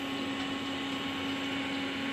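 A water pump motor drawing water up from 14 metres below hums in a steady, continuous close drone, even in level throughout with no talking.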